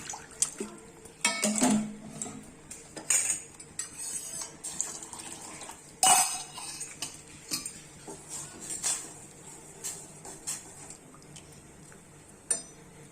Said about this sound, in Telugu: ఈ గిన్నెలో కూడా కొంచెం వాటర్ పోసుకొని కలుపుకోవాలి